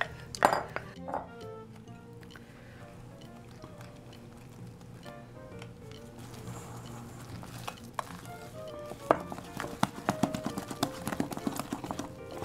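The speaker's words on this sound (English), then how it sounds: "And now I'm going to mix the dry ingredients with all the liquid." Dry ingredients being stirred into liquid batter for red velvet aebleskiver with white chocolate chips, with repeated close clinks and taps of a utensil against the bowl, steady scraping, and a busier, louder stretch of clatter toward the end.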